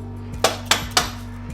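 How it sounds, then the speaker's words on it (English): A small hammer tapping a part into place on a Honda Grom motorcycle: three sharp metallic taps in quick, even succession over a low steady hum, close by with no talk. "Now we can take our little hammer, slide her on in."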